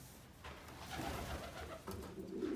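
Racing pigeons in a loft give soft, low, rolling coos, several overlapping and close, with no voices.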